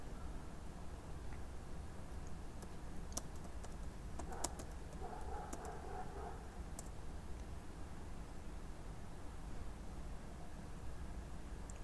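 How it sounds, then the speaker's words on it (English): Quiet clicking of fingers typing on a computer keyboard, a loose run of soft taps with a brief denser burst partway through, heard alone against a low background hiss. "we just type here Really Simple"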